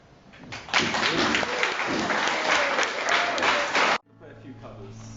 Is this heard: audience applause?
yes